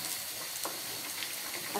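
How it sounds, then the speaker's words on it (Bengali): A spoon stirs chicken and potato curry in a pot, sizzling and scraping with a few soft clinks over a steady frying hiss, close and moderately loud. "এবার এটাকে চামচের সাহায্যে ভালো করে নেড়ে দেওয়া হচ্ছে"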